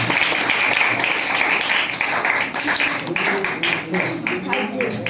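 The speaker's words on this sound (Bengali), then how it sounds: "জোরে একটু হাততালি" An audience at a school Saraswati Puja celebration gives sustained applause during a book presentation, with an announcer's voice speaking over the clapping.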